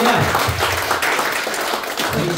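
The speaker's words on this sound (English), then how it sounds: "Come on, clap your hands to the Lord." A church congregation at a first-anniversary worship service claps their hands together, a continuous wash of many hands clapping with low voices and background sound underneath.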